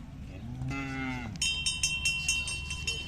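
Khillar bull calf at a rural cattle fair, a single drawn-out moo up close followed by a bright rhythmic cowbell-like clinking over a low background murmur.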